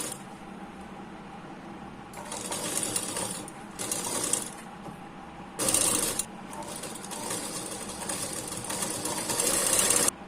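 A sewing machine stitches blouse piping in several bursts: short runs of rapid, rattling mechanical whirring separated by quieter pauses and small clicks, all close and fairly loud.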